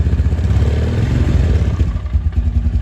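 A Suzuki LTZ250 QuadSport ATV engine, freshly tuned up with a cleaned carburetor and adjusted valves, idles close to the microphone with a loud, steady, rapid putter and mechanical clatter.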